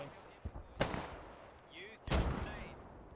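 Rifle fire in the WWII shooter Post Scriptum, M1 rifles firing suppressive shots into bushes during the Market Garden push: two sharp, loud close shots about a second apart, with softer distant reports and faint background chatter.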